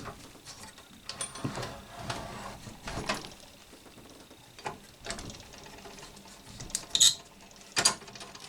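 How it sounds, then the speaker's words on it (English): A chisel pares a taper on an Epiphone Casino guitar neck in faint, irregular scraping strokes, with a few sharper clicks near the end, close and quiet. "I'm going to get a head start on the taper with a chisel here."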